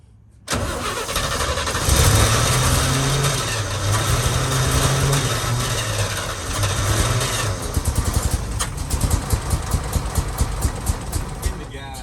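A 1966 International Harvester 1100A pickup cranks briefly then fires and runs, a loud close engine settling into a rough idle with pulsing beats, while people talk over it.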